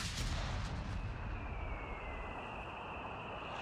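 Halftrack artillery shelling in Company of Heroes 3, a faint, muffled blast that trails off into a low rumbling wash and hiss, heard on its own.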